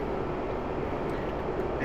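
Steady broadband roar of a Mirage 2000 jet engine in the DCS flight simulator, throttled back to idle and winding down mid-flight, a continuous dense rumble with no talk over it.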